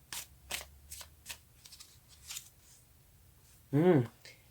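Tarot cards shuffled and drawn by hand: several soft riffling swishes spaced through the stretch, fairly quiet and close, with a short louder voice-like burst near the end.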